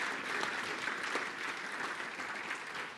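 Audience applause after a conference talk, a steady, even wash of clapping lasting the full three seconds, moderately distant with no pauses.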